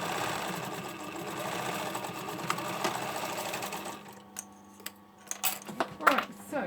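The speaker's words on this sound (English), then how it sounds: "Alright, so overlock it." A sewing machine stitches the side seam of a hoodie (Burda 6315), a steady close whirring hum that stops partway, followed by clicks and fabric handling.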